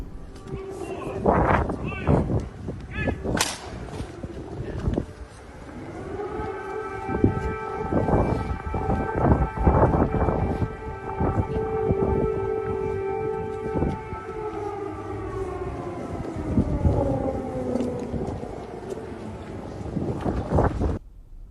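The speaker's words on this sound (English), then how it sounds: "But what's weird about the air raid sirens going off?" Civil defense air raid sirens wail in a long rising and falling tone, loud and sustained, with people talking and wind noise over it.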